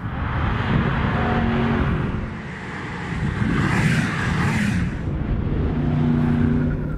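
A BMW M850i coupé's deep, burbling V8 exhaust with an extra exhaust valve rumbles nearby, swelling and easing as the engine is revved and held.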